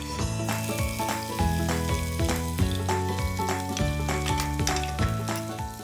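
Ginger-garlic paste sizzles steadily in hot oil already tempered with mustard seeds, cumin and a pinch of asafoetida, a continuous close frying hiss under tonal background music.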